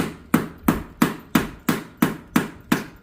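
On a 2003 Ford Mustang Cobra engine, a freeze plug is knocked out with a mallet: eight evenly spaced, sharp, close-up hammer blows in a steady rhythm, each followed by a short metallic ring, with no talk.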